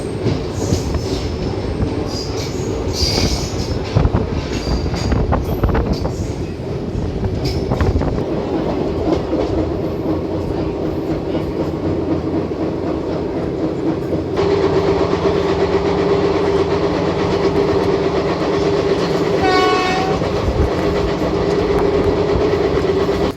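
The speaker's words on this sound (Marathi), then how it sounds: "3 मिनिटाचा हॉल्ट घेऊन आता कराड रेल्वे स्टेशनवरून गाडी डिपार्चर होत आहे" The Koyna Express departs Karad railway station with a steady rumble and clatter of wheels on rails, loud and close, rising as it moves, with a squeal of wheels near the end.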